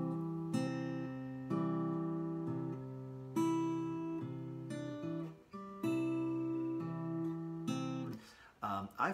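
Acoustic guitar in standard tuning plays the opening three bars of a blues-gospel tune slowly and cleanly, single plucked notes and bass notes ringing in a deliberate rhythm, close and quiet, ending with a brief scrape.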